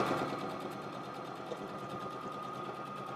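A sewing machine stitching a fabric wallet and backstitching at the end of the seam, making a steady rapid mechanical whir with fine regular ticking, close by and without talk.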